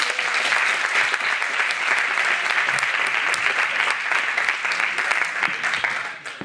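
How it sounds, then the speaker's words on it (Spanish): Audience applause at a creativity event, a loud sustained burst of many hands clapping continuously for about six seconds, tapering slightly at the end. "¡Aplauso fuerte!"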